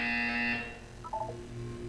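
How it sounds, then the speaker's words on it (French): Test chamber chime from Portal 2: a short bright electronic tone sequence of a few quick, clean notes, moderately loud over a steady hum, with a sustained high electronic tone fading out before the notes play. "Vous allez entendre une sonnerie."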